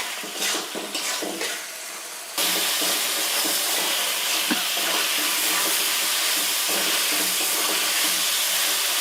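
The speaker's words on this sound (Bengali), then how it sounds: "চিকেনগুলো আমি নেড়ে চেড়ে ভালো করে কষিয়ে নেব 3 থেকে 4 মিনিট।" Chicken being stirred and fried in a pan, a steady loud sizzle with scraping and stirring strokes that swell after a couple of seconds and continue close and unbroken, with no talking.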